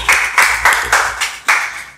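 Audience members at a business coaching seminar clap in a quick series of about six sharp, evenly spaced claps, close and fairly loud, with no voices over them.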